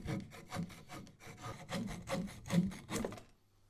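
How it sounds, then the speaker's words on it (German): A small Leatherman multitool saw blade rasps back and forth through wood in quick, regular strokes, close and alone, ending abruptly. "Wie gut kann ich denn mit so einem kleinen Sägeblatt mal schnell was absägen?"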